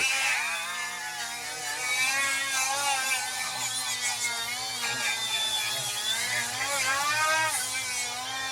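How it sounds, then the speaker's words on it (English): Milwaukee M12 die grinders fitted with cookie wheels grind a cylinder head, making loud, high, wavering whines from two tools running at once, their pitches sliding up and down as they bear on the metal. "I'm going to grind on this in 3, 2, 1, go"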